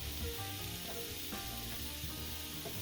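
Mushrooms sizzle steadily in olive oil in a pan, a continuous dense hiss with faint crackles, close and moderately loud, no talking, for truffle mushroom sliders.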